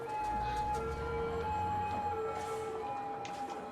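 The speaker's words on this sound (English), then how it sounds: "Nowadays, it's just the sound of ambulances everywhere." A faint wailing ambulance siren in a city-building video game rises and falls over a low background rumble, heard at a distance.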